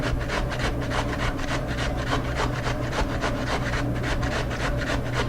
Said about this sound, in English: So we're going to grate this. And really you only need about one potato for this.